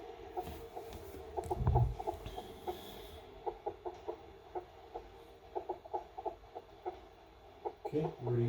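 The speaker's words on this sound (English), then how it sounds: "Now there's a chicken there. You kill that chicken," A chicken clucks repeatedly in a medieval knights multiplayer video game, soft rhythmic clucks running steadily over a low game background, with a voice briefly heard.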